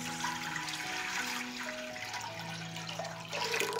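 Water being poured into a cooking pot to make a marinade, 1.5 liters, heard as a steady running, filling stream that rises in pitch as the pot fills, close and moderately loud with no talking.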